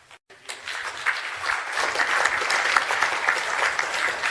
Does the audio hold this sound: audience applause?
yes